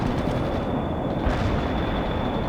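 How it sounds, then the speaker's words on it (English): An artillery barrage in the World in Conflict real-time strategy game sounds as dense, rumbling booms and shell blasts. They blend into a continuous loud roar, with a steady high electronic tone above them. "Fire mission received. Artillery barrage inbound."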